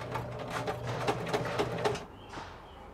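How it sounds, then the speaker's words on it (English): A sewing machine stitching along the last edge near a fabric pleat, a rapid, uneven mechanical rattle of stitches for about two seconds, then stopping with a faint sliding whir after. "I'm trying to make sure I don't sew over that final pleat as I'm getting to my last edge here"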